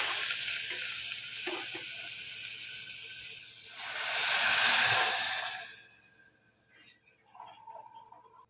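A hot pan sizzles, then a loud whooshing hiss swells as water hits it and fades after a few seconds; a voice speaks briefly near the end.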